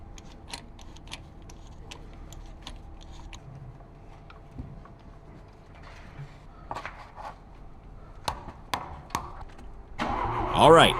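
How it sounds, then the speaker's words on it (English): An abandoned police car being started after its spark plugs were dried and repaired: quiet starter cranking and clicks with a few sharp ticks, then the engine catches and surges loudly right at the end. "first start attempt after drying and initial repairs"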